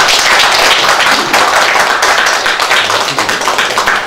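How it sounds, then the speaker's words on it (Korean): Loud, dense applause at a party leadership meeting welcoming newly recruited members: a continuous close wash of many clapping hands that stays at full strength throughout. "큰 박수로 환영해 주시기 바랍니다"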